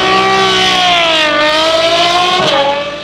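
Apollo IE supercar with a naturally aspirated 6.3-liter V12, giving a loud, close, high-pitched engine howl that holds steady and then dips slightly in pitch near the end.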